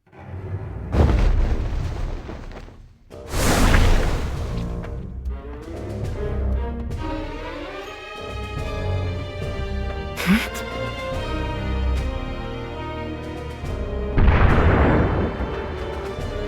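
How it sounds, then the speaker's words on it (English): Rundal cannons booming in the Final Fantasy War of Visions video game during a battle on a lake, several heavy deep blasts spread out over the scene amid game music and ambience. "Those are the sounds of Rundal cannons."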